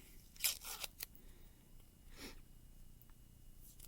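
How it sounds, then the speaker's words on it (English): Sticky tape is pulled off a roll for an in-the-hoop embroidery bag project: a quick cluster of close, crackly tearing bursts, then a softer pull a moment later, in a quiet room with no speech. "Let me get some tape out to tape this."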